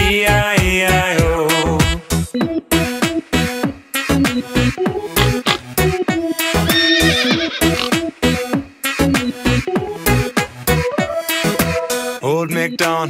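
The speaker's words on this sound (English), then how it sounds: "And on his farm he had a horse" Horse neighs ring out over a bouncy, upbeat rendition of Old MacDonald Had a Farm, with a whinny near the start, another midway and a last one at the end.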